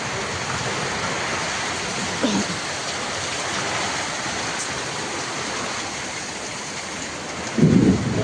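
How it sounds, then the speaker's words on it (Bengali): A strong storm drives heavy rain in a steady, close, hissing roar, broken by a brief knock early on and a louder burst near the end. "অনেক জোরে ঝড় হচ্ছে"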